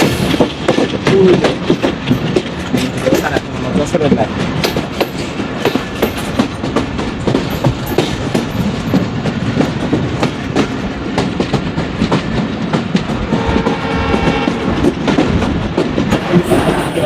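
Jahanabad Express train running on rails toward Benapole, with a steady rhythmic clickety-clack of wheels over rail joints and a continuous loud rumble throughout, close and unbroken with no talk.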